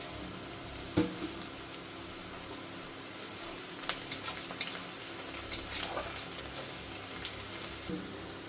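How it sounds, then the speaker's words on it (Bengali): Chopped onion fries with a pinch of sugar in a pan, a continuous soft sizzle under light scraping and stirring, with no talk. "পেঁয়াজটা আমি লাল করে ভেজে নেব। পেঁয়াজের মধ্যে অল্প একটু চিনি দেবো আমি, পেঁয়াজটা তাড়াতাড়ি লাল হয়ে যাবে।"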